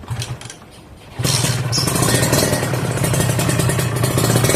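Kawasaki Ninja two-stroke motorcycle after frame repair, starting up and settling into a loud, steady, raspy close-up engine drone with clattery texture, no talking.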